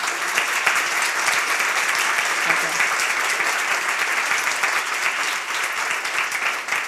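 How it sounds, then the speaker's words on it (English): An audience at a women's leadership conference panel applauds with steady, dense clapping that holds at an even level throughout and then thins slightly at the end. "So a round of applause for them."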